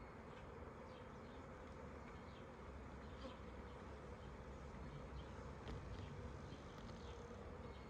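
Honeybees hum steadily and densely from an open hive during a full inspection, a close, continuous buzzing that stays even throughout with no talking.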